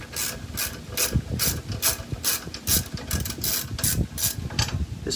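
A ratchet wrench backs out 3/4 inch bolts from a hitch plate cover, giving rapid, rhythmic clicking bursts, close and steady, with no talking.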